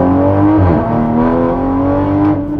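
A car engine revs hard and steadily from close by, with a sustained rising and falling drone and no talk over it.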